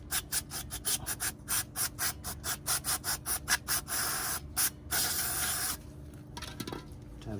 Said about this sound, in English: Try to get all the brake dust off of it.